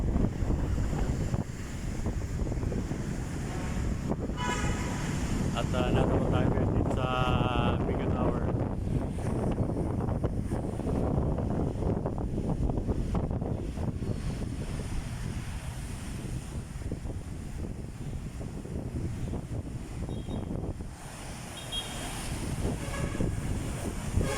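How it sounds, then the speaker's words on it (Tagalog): Strong typhoon wind gusting outdoors near a shopping mall, a steady loud roar with broadband microphone buffeting throughout, while a person talks over it. "at napakalakas ng hangin guys ayun tingnan yung mga halaman oh"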